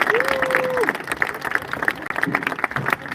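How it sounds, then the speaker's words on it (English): Brief, lively applause from the audience at a junior high school graduation ceremony, close and steady clapping with a few voices and a cheer mixed in under the noise. "So if we can give our school board a big round of applause."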